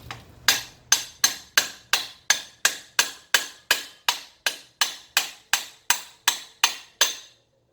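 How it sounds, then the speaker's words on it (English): Steel hammer blows drive a part into a Ford Fairmont rear-end housing through brass drifts and a socket, about eighteen sharp metallic strikes in a steady, even rhythm, close and loud with no talk. "I'm using a couple of brass drifts and a socket to"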